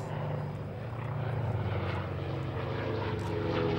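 A T-28 Trojan propeller aircraft flies at an airshow with a steady, throbbing radial engine drone, fairly loud and constant throughout with no speech over it.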